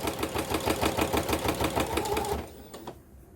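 Sewing machine running a long stitch length through a shaker card, a fast steady mechanical stitching rhythm close up that slows and stops near the end.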